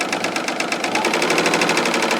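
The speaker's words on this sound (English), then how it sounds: "I am just going to prep the bottom of my Sicily Slip dresses here using Loriann's lovely new overlocker" A new overlocker serger hems the bottom edges of Sicily Slip dresses, giving a steady, rapid mechanical chatter of stitching that runs evenly and close up throughout, with no talking.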